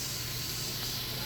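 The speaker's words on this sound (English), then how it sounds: "we are going to get this going in the pot. We're going to get a little bit of browning on it" Chicken browning in a pot for chicken noodle soup, a steady close sizzle and hiss with no breaks.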